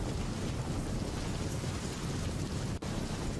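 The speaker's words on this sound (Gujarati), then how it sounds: "ગઢડા તાલુકામાં ચાર કલાકથી વરસાદ પડી રહ્યો છે ભારે વરસાદ પડતા" Heavy monsoon rain in Gadhada taluka, Botad, Gujarat, pours down steadily, a dense, even roar of hiss that never lets up, close and loud throughout.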